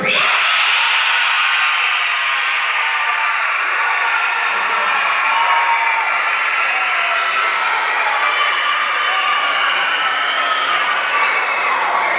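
Large audience at a Lumbee Tribe cultural presentation shouting and cheering together, a dense loud sustained roar of many voices held steadily throughout.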